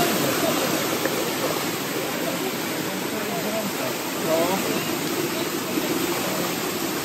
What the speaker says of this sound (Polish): Zobaczyć w pełnej okazałości ten wodospad z gorącymi źródłami.